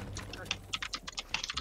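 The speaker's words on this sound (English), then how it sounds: "whose loud ass keyboard is that?" Quick clicky keystrokes of a mechanical keyboard tap in an uneven rhythm, fairly faint, over a low background hum.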